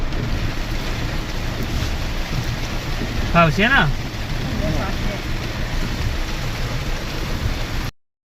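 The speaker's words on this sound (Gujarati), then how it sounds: "ભાઈ બહાર તો બહુ જ ફૂલ વરસાદ પડે" Steady heavy rain hisses outside without pause, with a brief voice speaking partway through over the downpour.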